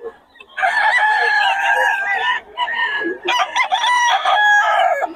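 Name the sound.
roosters crowing and chickens clucking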